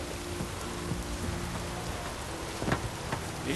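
Rain in The Witcher 3 video game, a steady dense hiss of rainfall on surfaces with a low hum underneath and a few sharper drop-like crackles near the end.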